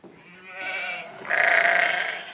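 Goats bleat nearby on a farm, one call followed by a louder, longer wavering bleat, heard alone without talk.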